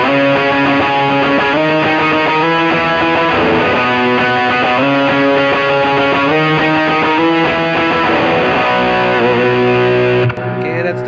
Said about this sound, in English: the hard setting is a huge kind of like a distortion kind of sound